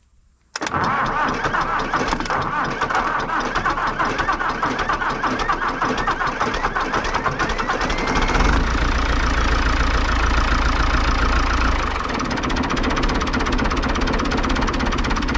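Diesel engine cranking and starting without glow plugs after sitting unused for months, then running and idling steadily with a rough, chuffing knock, loud and close throughout.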